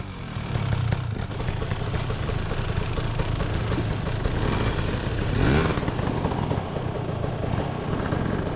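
A dirt bike engine runs steadily while riding secondary trails at Three Hills in spring, a continuous loud mid-pitched drone with clattering texture that swells briefly near the middle, with no talking.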